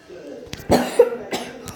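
A person coughs hard several times in a row, loud and close, during a French-language gaming session, with a raspy throat-clearing quality and brief voice sounds mixed in.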